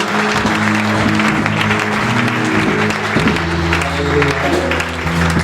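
Church congregation applauding together, sustained clapping over music, continuous and full for about five seconds.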